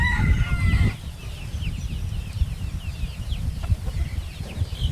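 A rooster on a farm in the morning, with clucking fowl and what may be a crow near the start, then quieter bird calls over steady wind rumble.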